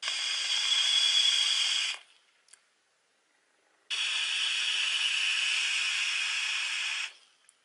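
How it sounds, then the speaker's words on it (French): Two long airy hissing draws on a Joyetech eVic VTwo Cubis Pro e-cigarette with airflow fully open, each steady and close, separated by a quiet gap. "j'avale directement la vapeur dans mes poumons pour la ressortir"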